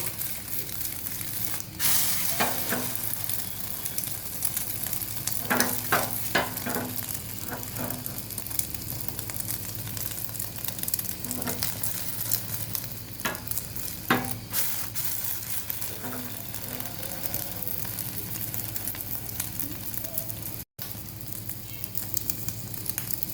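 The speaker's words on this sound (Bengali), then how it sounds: "তৈরি হয়ে গেল চুমপুং স্টাইলে ডিম ভাজা" An egg fries in a well-heated kadai for a Chum-pung style fried egg, with a constant close sizzle broken by scattered sharp scrapes and clicks of stirring and turning, no talk.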